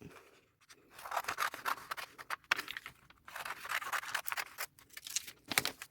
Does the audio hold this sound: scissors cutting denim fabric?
yes